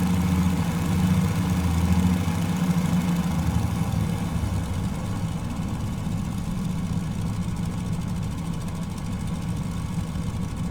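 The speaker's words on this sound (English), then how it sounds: "the engine's now idling around 650 RPM as opposed to around 1400 before when we did the manual start process" Steady droning idle of the Fokker F VII's engines in Microsoft Flight Simulator, running at low RPM as a continuous, even rumble with no talking over it.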